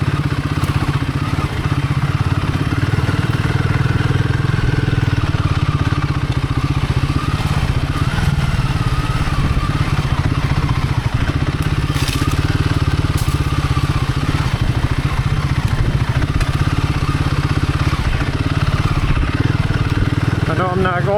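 A Royal Enfield Himalayan 450 lugging along sandy Michigan singletrack, its engine thumping steadily and loud close up, with clatter and crunching from the bike over rough ground throughout.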